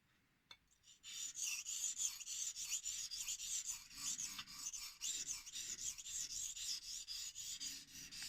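A Kai damascus kitchen knife is drawn over a Shapton 1000 grit whetstone, giving a steady, close, continuous hissing rasp in repeated strokes that runs for several seconds after a brief quiet start.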